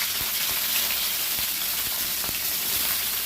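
Cleaned prawns sizzle and fry in hot oil as a steady, loud hiss that fills the whole stretch, with small scattered pops and stirring clicks and no talking.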